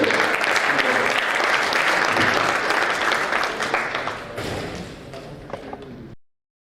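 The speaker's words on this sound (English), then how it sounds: "And a round of applause for Naveed Sahab" An audience at a conference event applauds a guest speaker, loud dense clapping that gradually thins out and fades into a few scattered claps before cutting off.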